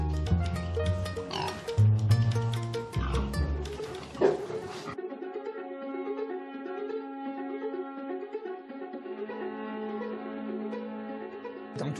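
Farm pigs grunt and squeal loudly in a dense burst over the first few seconds, then give way to steadier sustained tones for the rest.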